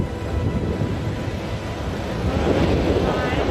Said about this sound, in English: Then there's a ferocious roar.